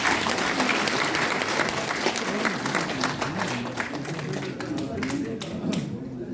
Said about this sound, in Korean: 수고해주신 김문현 수석부위원장께 다시 한번 큰 박수 부탁드리겠습니다.